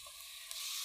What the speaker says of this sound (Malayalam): 3 ഉള്ളി കുറച്ച് എണ്ണയിൽ വഴറ്റിയെടുക്കണം